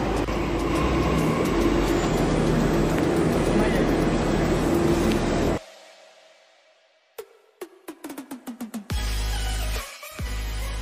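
A Delhi metro train pulls into the station, a loud steady rumble of wheels and motors that drops away abruptly, followed by a series of sharp clicks and clunks, then a burst of loud platform noise.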